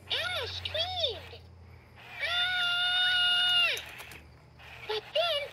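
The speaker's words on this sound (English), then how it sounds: "Elmo screamed." An Elmo Live toy plays recorded high-pitched screams: two short wavering cries, then a long sustained shriek, then a few more brief cries, loud and close against a quiet background.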